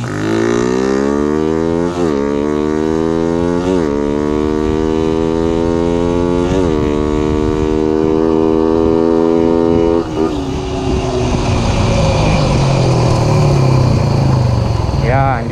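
Motorcycle engine revving hard at full throttle after a jetting change, the pitch climbing in repeated surges with brief dips between gear-like pulls, then easing and falling off near the end, loud and close throughout.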